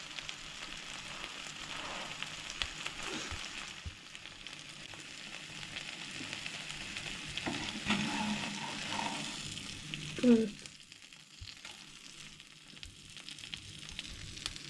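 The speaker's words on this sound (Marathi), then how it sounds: "अशें दोनूय सायडीनसून गरम करून घेवंक पाव." Pav bread frying in a hot pan for pav bhaji, a steady soft sizzle running the whole time with a brief louder crackle partway through, close and fairly quiet, no talking.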